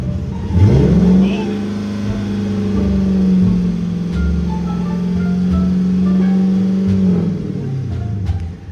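A 400 hp Dodge Challenger RT engine revs up and holds a steady, droning 3000 RPM for about six seconds before dropping back toward idle, loud and close.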